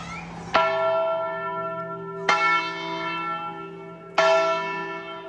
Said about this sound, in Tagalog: Ang tunog ng Christmas bell ay parang tinatawag na siyang umuwi sa kanilang tahanan.